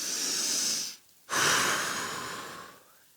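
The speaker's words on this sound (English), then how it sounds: "Take a nice breath." A person resting after a plank exercise takes a long breath: a close, airy exhale, a brief pause, then a deep hissing inhale that slowly fades, with no words spoken.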